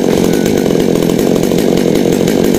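Chainsaw cutting through small, leaning Sao trees, running loud and close without a break, a dense continuous buzzing roar at steady revs with no pauses or talk.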